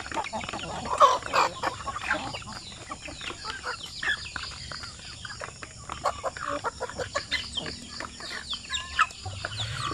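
Chickens cluck and chatter busily on a poultry farm, a dense mix of overlapping clucks and short calls near and far, with soft background noise throughout.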